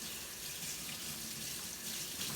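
Tap water runs steadily into a sink, rinsing a pair of freshly washed hands in a continuous close splashing rush with no talk.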